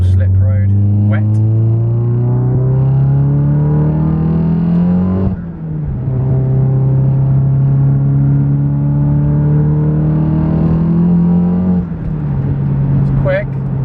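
A 500bhp VW Golf GTI accelerating hard up a wet uphill slip road, its engine note climbing loudly through one gear, dropping at a shift, then rising again through the next, heard from inside the car.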